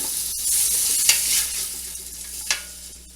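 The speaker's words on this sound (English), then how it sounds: "We're just going to cook that until the celery gets soft" Celery, carrots and onions cooking in a pot for turkey white bean chili, a soft continuous sizzle with a couple of sharp stirring clinks, close and without talk.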